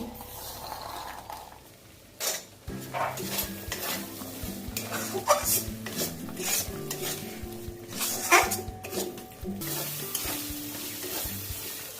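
Vegetables and green peas stirred in a wok with chili powder, salt and a little water: a busy sizzle beneath repeated scraping and clanking of the spatula on the metal, up close and fairly loud, with some faint background music.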